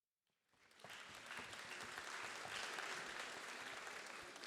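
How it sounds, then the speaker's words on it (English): Audience applause at a summit of first ladies and gentlemen, rising quickly from silence into steady, dense clapping that fills the hall and holds at a constant level. "Thank you for your applause"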